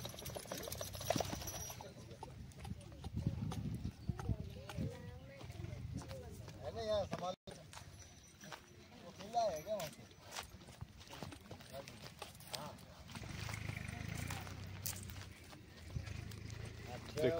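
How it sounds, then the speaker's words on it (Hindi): Horses, mostly white mares, walking at a horse fair in Mahendragarh, with hooves clip-clopping steadily through a busy outdoor scene, the hoofbeats moderately close beneath someone talking and crowd noise. "देखो भाई घोड़ा यू है, घोड़ा वो है।"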